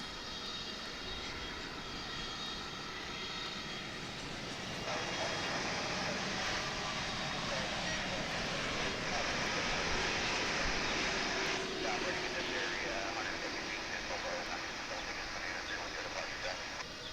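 An American Airlines Boeing 787-9 from Maui arrives at DFW, a steady jet engine whine and rush swelling midway as it passes, with a faint voice talking underneath.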